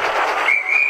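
A steam-style train whistle sounds in the Blue Train With Friends game, a bright sustained tone entering halfway through over a dense, steady layer of rumbling game noise.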